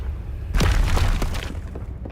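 A fire-blast spell explosion in Hogwarts Legacy bursts with a single deep boom and a crackling, rumbling decay lasting about a second and a half.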